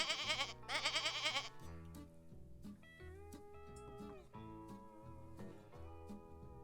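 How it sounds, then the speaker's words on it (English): A gray goat bleats in short bursts at the start of a children's farm-animal learning activity, loud and close, then gives way to a bright, busy music bed for the rest. "Here's the gray goat."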